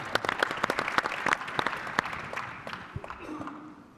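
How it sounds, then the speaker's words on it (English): An opening general session audience breaks into applause, distinct claps dense at first and then fading into a scattered, softer patter over four seconds. "that deserves a clap"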